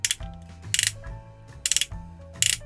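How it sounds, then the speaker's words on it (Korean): Ratchet ankle joint on a Rex Kaiser transforming robot toy, heard as four quick bursts of crisp plastic clicks at an even rhythm, close and alone. "라쳇 관절이 이렇게 들어가 있습니다"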